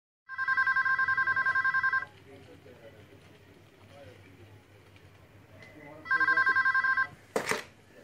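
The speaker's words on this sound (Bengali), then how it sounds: "আবার ফোন এলো।" A telephone rings in two bursts of a repeated electronic trill, near and fairly loud, with a quiet stretch of low background between them and a short sharp knock near the end.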